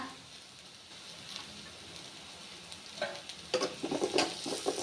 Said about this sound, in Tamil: வெங்காயம் கொஞ்சம் நல்லா வதங்கணுங்க. போட்டுக்கலாங்க.